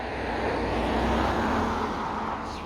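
A micro B-2 RC plane makes a full-throttle fast pass: a steady, loud rushing whine that swells slightly and fades, heard alone without voices.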